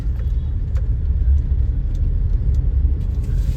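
A Tata Punch three-cylinder engine idles and pulls away gently in heavy traffic, heard from inside the cabin as a steady, loud low rumble with faint jingling above it.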